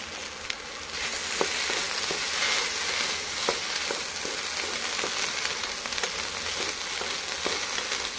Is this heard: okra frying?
yes